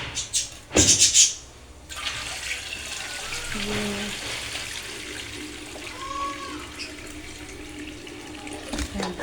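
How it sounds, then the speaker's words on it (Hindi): Water runs from a tap into a pot of soaked rice during home cooking, a short loud gush followed by a softer, steady trickle and faint splashing as the rice settles. "एक और पानी डाल देते हैं मैं इसमें।"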